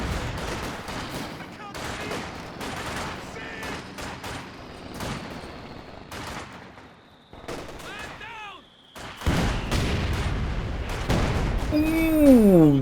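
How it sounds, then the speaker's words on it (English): Artillery barrage in the strategy game Company of Heroes 2, a rapid series of loud booming shell impacts and crackling gunfire with a brief lull midway, then renewed heavy blasts swelling toward the end. "Ooh, big old Barrage."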